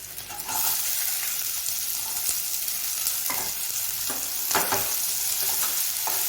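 Onion with ginger-garlic paste sizzles steadily in hot oil for Rajasthani dal, a dense broadband crackle broken by several sharp scraping strokes of a spatula stirring the pan, close and fairly loud with no talking.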